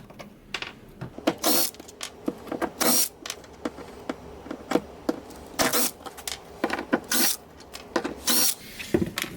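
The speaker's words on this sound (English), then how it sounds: "With the edges routed, I'm just going to back out these screws." A power drill backs screws out of a miter saw zero clearance insert, with many short, close whirring bursts in quick succession and brief clicks between them.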